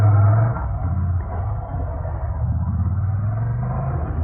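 A 2021 Ducati Scrambler Icon 800 motorcycle rides along city streets, a low, steady engine rumble heard from the saddle with wind buffeting, swelling slightly as the throttle opens, no talking.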